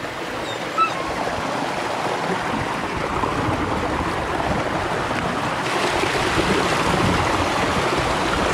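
A mountain stream in farming country in Táchira, Venezuela, its cold water rushing steadily with a dense, continuous broadband wash that holds even loudness from start to finish, with no voices over it.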